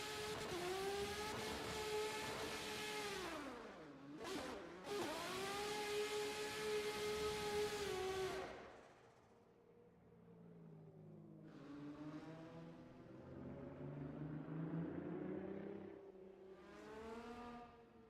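A drift car engine in SimGear sim racing at Okayama revs hard and holds high to heat the tyres. The pitch swoops up and down, drops away briefly, then climbs again in loud sustained revving.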